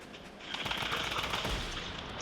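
Rapid sniper and automatic gunfire in a Fortnite match, a dense, continuous burst of shots lasting about two seconds with no voices over it.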